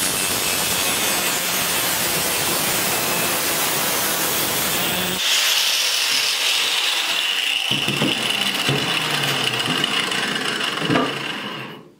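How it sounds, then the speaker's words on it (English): A 4-inch angle grinder cuts black stove pipe with a harsh, loud continuous grinding hiss for about five seconds, then a higher whining spin-down with scattered scraping and clanks as the cut ends. "take our 4-inch grinder,"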